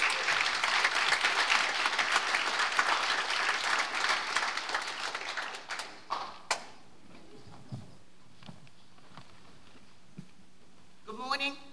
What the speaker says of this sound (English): So let's give her a warm round of applause as she makes her way down.